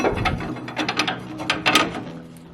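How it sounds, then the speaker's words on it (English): A U-bolt nut on the rear block of a 2017-2019 Ford F250/F350/F450 is tightened with a hand ratchet, giving a close, steady run of rapid clicking strokes with no voices. "Put the nut and the washer back on. Tighten it up."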